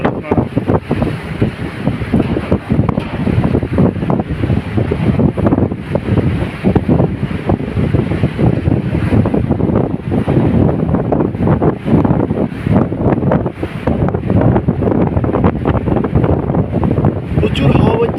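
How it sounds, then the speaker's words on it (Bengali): Strong wind roars continuously into the microphone outdoors in bad weather. The rumbling gusts are loud and unbroken, with some faint background sound mixed in. "প্রচুর হাওয়া হচ্ছে, খুব জোরে হাওয়া হচ্ছে এখানে।"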